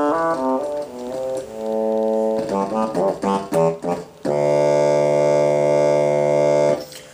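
A physical-modeling synth patch on a Kurzweil PC3 emulates a horn, playing loud, clear, sustained brassy notes: a short run of separate tones, a few choppy stabs, then one long held note that cuts off near the end.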